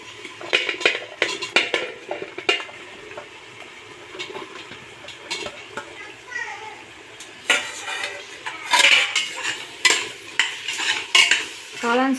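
Chopped mushrooms being stirred into mushroom biryani in a metal pan, with repeated close scraping and clattering of a spoon against the pan in an uneven rhythm, fairly loud and without talk.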